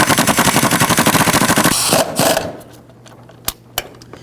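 A power tool rapidly hammers as it snugs down engine mount bolts on a 2010-16 Buick LaCrosse, a loud, close buzzing rattle for about two seconds that then stops, followed by a couple of sharp metallic clicks.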